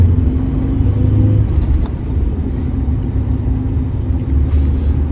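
Steady traffic rumbles past on a busy road, a dense, continuous drone of car engines and tires with a few louder swells as nearer vehicles go by, no voices.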